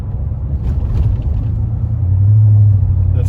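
A 2021 Chevy Silverado with a 6.2 V8, 10-speed transmission and muffler delete cruising at about 50 mph, heard from inside as a steady, deep exhaust drone with road rumble, swelling slightly toward the end.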